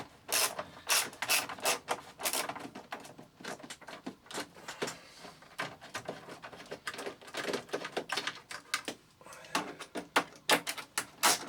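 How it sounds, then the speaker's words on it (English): Screws being removed from the casing of a Siemens PG-730 PLC programmer: a close, busy run of ratcheting clicks, squeaks and metallic ticks in quick irregular bursts. "Let's get these last few screws out and we can take our first look inside this system."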